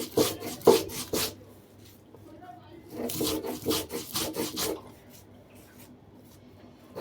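Black cumin is ground into a paste by hand for a bhorta, with close rhythmic rubbing and scraping strokes in two bursts separated by a brief pause.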